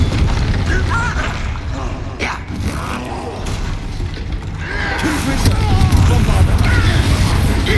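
Expelliarmus spell blasts during a duel in the game Hogwarts Legacy: booming, crackling magical bursts and mechanical clatter that swell toward the end, mixed with voices in the background.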